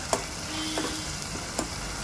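Boiled chopped spinach is tipped into a sizzling pan for an egg-and-spinach masala, giving a few soft scrapes and stirring clinks over a low, steady frying hiss.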